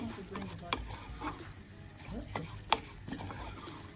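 Vermicelli fries in foaming butter for Lebanese rice to go with pea stew. A steady close sizzle runs under scraping and stirring clicks of a utensil against the pan, with no talking.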